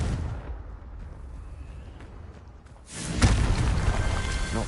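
A Confringo spell explosion in Hogwarts Legacy: after a quieter rumbling stretch, a loud, heavy blast erupts and keeps booming and crackling through to the end.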